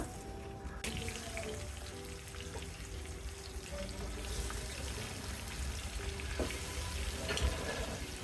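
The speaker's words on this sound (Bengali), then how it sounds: "তেল গরম হয়ে গিয়েছে এবার মাছের পিসগুলোকে আমি ভালোভাবে বেজে নেব" Pieces of catla fish frying in hot oil for a fish curry, a dense continuous sizzle and crackle at close range with occasional small pops and clatter, no speech.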